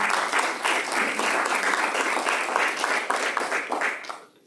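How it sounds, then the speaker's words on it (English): A church congregation claps hands in praise during a sermon, a full, even burst of applause lasting about four seconds before cutting off, with no talking over it. "Go ahead and give the Lord a hand clap of praise if you will."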